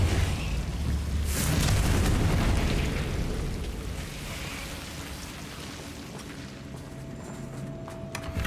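A Confringo blasting spell goes off in a video game: a heavy, rumbling blast erupts early and settles into a long, noisy roar like pouring rain, with a quieter, steady tail.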